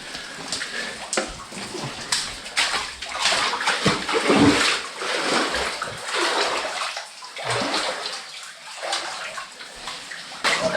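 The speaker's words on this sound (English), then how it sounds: "Water coming down, so I can't really stay underneath it." Water pouring down inside an abandoned lead mine beside a collapsed hopper, a close, continuous rushing splatter with sloshing bursts as someone moves beneath it.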